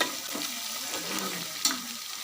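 Chopped garlic sizzles and fries in a hot pan with oil, a steady hiss broken by soft stirring scrapes and one brief louder clatter near the end, with no voices.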